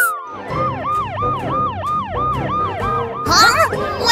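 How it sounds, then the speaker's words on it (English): A wailing cartoon ambulance siren cycles up and down repeatedly, loud and close, with a burst of brighter, higher tones joining near the end. "Wheel, wheel, ambulance!"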